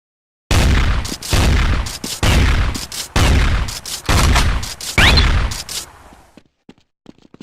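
Gunfire in the Counter-Strike Condition Zero video game, six loud close bursts of automatic fire in a regular rhythm, each about half a second long, followed by fading echoes and a few faint clicks.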